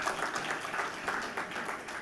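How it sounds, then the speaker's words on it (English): An audience at a distinguished university lecture claps in a round of applause, many hands patting together in a steady, moderately loud burst that holds for the whole stretch. "Give them a round of applause, please"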